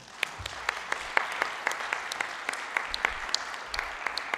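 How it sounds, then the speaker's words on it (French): Assembly at the French CESE applauding newly elected bureau members, a steady round of dense clapping from many hands in a large hall, with no talking. "Toutes mes félicitations à eux et je crois que nous pouvons les applaudir."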